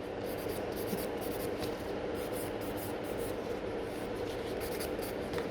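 Steady rasping of a nail file working over gel nails, an even, continuous scratchy rubbing with quick repeated strokes at close range and no talking.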